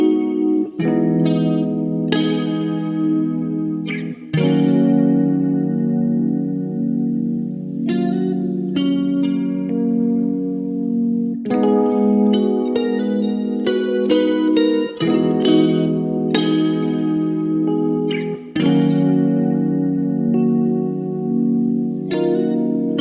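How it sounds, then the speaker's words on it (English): Electric guitar chords strummed through shimmering chorus and distortion effects, ringing and sustained, changing in a steady progression over a Rhodes electric piano in an RnB beat. "Putting the guitars back on top of the Rhodes, playing the chord progression sounds like this."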